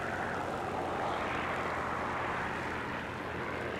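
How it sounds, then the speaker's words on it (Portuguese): A German propeller aircraft engine in War Thunder drones steadily, a loud continuous roar with no pauses or talking. "O avião tá perdendo força,"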